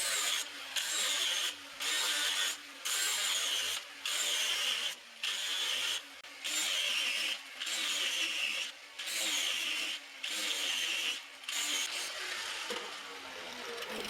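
An angle grinder with a flap disc whirs in repeated bursts of about a second each, with short breaks between, sanding oak barrel staves at close range with no speech.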